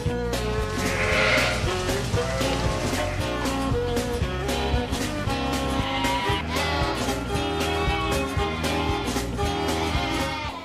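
A large flock of dairy sheep bleats continuously in a milking parlour while about 1,500 ewes are being milked, forming a loud, dense chorus of overlapping cries with steady rhythmic machinery underneath and no talking.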